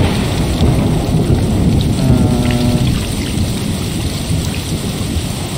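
Steady heavy rain pours in the video game Stray, with a rumble of thunder rolling beneath the dense hiss, loud and continuous throughout with no voices.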